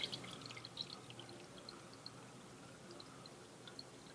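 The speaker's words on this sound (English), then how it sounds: "I'm just going to add a little bit of water just to kind of get things going" Water poured gently into a small Fluval Spec 5 aquarium over substrate, a faint, quiet trickle with scattered soft drips and splashes throughout, no talking.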